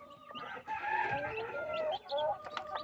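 A bantam hen clucks and murmurs in a series of close, tonal calls with brief pauses, heard on its own in a coop bedded with sawdust.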